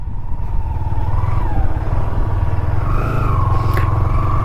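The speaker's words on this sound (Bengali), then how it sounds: "ওই বাইকটা নামছে দেখো কিভাবে, অবস্থায় খারাপ।" Motorcycles on a group ride run down a slope with a steady, loud engine drone that climbs and dips in pitch as the riders shift their throttle, close by and continuous, with no talk.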